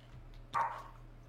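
A single dog bark sounds at moderate distance over a quiet background hum.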